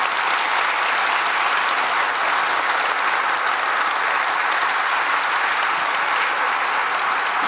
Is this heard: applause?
yes